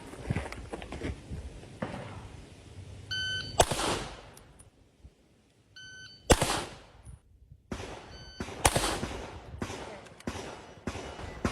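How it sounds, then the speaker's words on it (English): Pistol shots fired at a target on a shooting range, a few sharp, loud reports spaced several seconds apart with electronic beeps between them, heard close up. "So I want you to watch how long the gun's on target before the shot gets fired."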